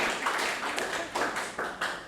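A lecture audience claps for a classmate in a cloud technology class, a short burst of brisk, fairly close applause.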